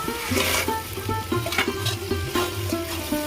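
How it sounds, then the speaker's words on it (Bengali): Crab claws frying in ghee give a close, bubbling sizzle with rhythmic stirring and clinking of a utensil against the pan, fairly loud and steady. "এবার আমি এই দাঁড়াগুলো দিয়ে দেবো দাঁড়া ঘি সব একসাথে দিয়ে দেবো"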